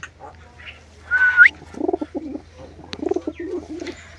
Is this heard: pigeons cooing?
yes